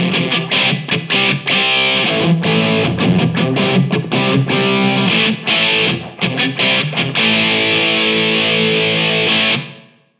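Electric guitar played through heavy distortion with a Boss EH-2 Enhancer pedal switched off: loud, dense, saturated chords and riffs with brief gaps, ringing steadily for about nine seconds before cutting off abruptly.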